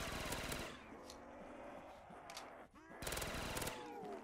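Rapid automatic gunfire from a fast-magazine weapon in a Black Ops custom zombies game, loud sustained bursts with a short lull in the middle before firing resumes.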